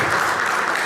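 A live audience claps steadily at a community program, a dense, even wash of applause close to the listener that holds for the full second with no voices over it.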